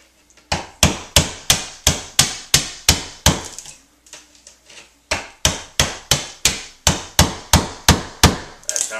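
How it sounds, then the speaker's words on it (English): A sharp chisel struck repeatedly with a hammer, chopping away at a wooden wall stud: about twenty sharp, close knocks in a steady rhythm, broken by a short pause with a few softer taps before the rhythm resumes. "I use my jigsaw to cut little grooves to score it, and a sharp chisel, and I'm just taking away a little bit of this stud"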